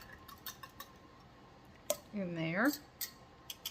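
An egg cracked into a bowl while baking a pumpkin crunch cake: a sharp shell tap and a few small clicks, close and quick, with a voice speaking briefly over the sound.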